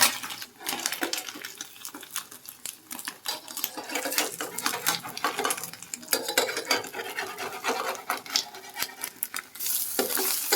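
Egg frying in a pan on a gas stove in a home kitchen, a loud crackling sizzle with bursts of spitting and scraping throughout, no talk.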